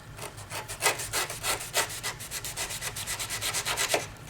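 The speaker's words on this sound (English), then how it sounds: "we'll go ahead and saw through and see what we can do" A SOG Team Leader knife saws through thick 1 1/4 inch manila rope in quick, rhythmic back-and-forth strokes, a dry rasping scrape that repeats steadily and close by with no talking.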